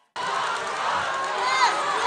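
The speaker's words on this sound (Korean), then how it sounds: "바로 이때 트럼프를 향해 야유가 쏟아집니다." Crowd at a Donald Trump campaign rally in Virginia erupts in sustained loud booing and jeering, a dense wash of many voices starting abruptly and holding steady, swelling slightly near the end.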